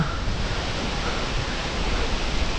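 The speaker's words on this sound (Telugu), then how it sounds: "ఒకసారి వాటర్ ఫాల్ని చూడండి" Phe Phe waterfall in Meghalaya roars as a steady, broadband rush of falling water, continuous and loud with no pauses, close to the listener.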